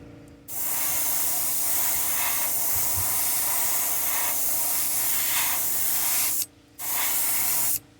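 An airbrush spraying sepia paint onto a custom fishing popper lure, giving a loud, steady close-up hiss that starts abruptly, runs for several seconds, cuts out briefly, then resumes.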